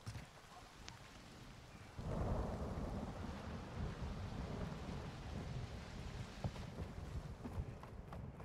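Steady rainfall hisses continuously as low thunder rumbles beneath it, the storm growing noticeably heavier after about two seconds, with no one speaking.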